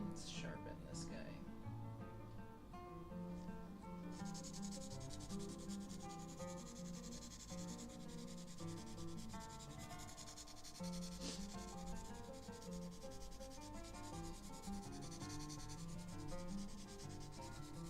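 A charcoal drawing pencil is sharpened with a steady, faint scraping rub that continues for many seconds, close to the ear.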